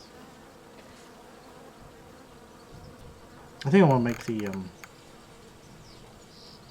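Bees from the game Hive Time hum in a low, constant buzz beneath a brief spoken phrase near the middle.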